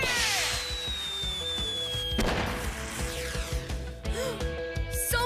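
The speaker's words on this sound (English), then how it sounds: "Wish I could signal Emery to let him know I'm here." A cartoon train fires a signal firework, a bright whooshing launch followed by crackling bursts and a sharp bang amid layered background music and effects.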